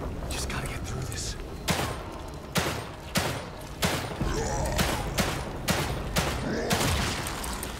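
Repeated gunfire from weapons in the survival horror video game The Evil Within 2, loud shots in an irregular burst series against a dense, noisy game background.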